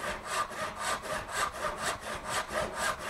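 A hand saw rips along the grain of a wooden board in steady back-and-forth strokes, about seven even rasping pulses that are close, clear and heard alone.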